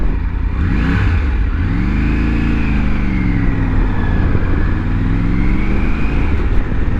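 A Triumph Tiger 900 GT Pro motorcycle is ridden, its engine droning loudly and close with rising and falling revs as it accelerates and shifts, mixed with steady road and wind noise.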